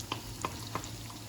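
Small pieces of dove meat fry in bacon grease in a pan, giving a steady low sizzle with three light ticks of utensil or popping spaced evenly.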